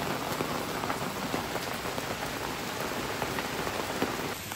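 Steady rain patters on surfaces in a regional park along the Gentilly River, a dense, even hiss of drops with scattered louder splashes, continuous and close throughout.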